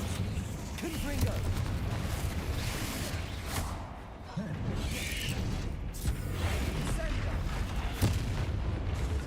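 Incendio and Confringo spell blasts go off in Hogwarts Legacy, heavy booming bursts and rumbling impacts amid combat noise, with a voice talking over the action.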